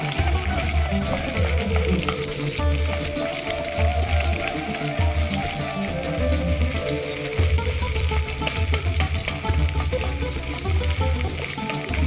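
Egg is stirred and fried in a wok, a loud, continuous close-up sizzle and hiss with repeated rhythmic scraping and knocking of the spatula throughout, no speech.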